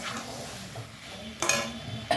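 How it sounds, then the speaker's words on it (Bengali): Potatoes cooking down with spices in hot oil give a faint, close sizzle under a few soft stirring scrapes and light clinks of a spoon against the pan. "মশলাটা দিয়ে আলুটাকে ভালো করে একটু কষিয়ে নিচ্ছি"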